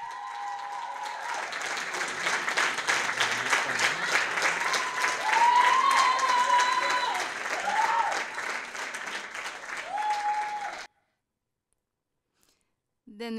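An audience applauds after a musical performance with dense, sustained clapping and scattered cheers and whistles, then it cuts off abruptly into silence near the end.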